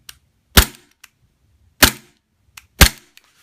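Three sharp, snappy shots from an airsoft Glock pistol spaced about a second apart, close and loud, with small mechanical clicks between them.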